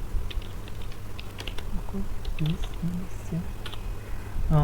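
A command is typed on a computer keyboard, with scattered quick key clicks and taps at an irregular pace, close by, over a soft background hum and some faint voice.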